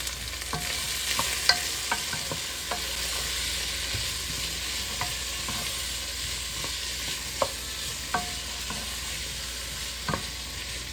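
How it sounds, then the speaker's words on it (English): Shredded cabbage stir-fried with green all-purpose seasoning for Jamaican steamed cabbage, a steady close sizzle with periodic scrapes and taps of a spoon tossing it in the pan. "we just stir fry this for about 1-2 minutes"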